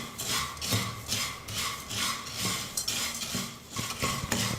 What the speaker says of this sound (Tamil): ஸ்டவ்வை மீடியம் ஃப்ளேமில் வச்சுக்கிட்டு அவலை 5லேருந்து 6 நிமிஷத்துக்கு நல்லா வறுத்துக்கணும்.